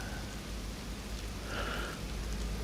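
Rain falls steadily in the survival game DayZ on the Chernarus map, a dense, even hiss of drops on surfaces with no voices, loud and continuous throughout.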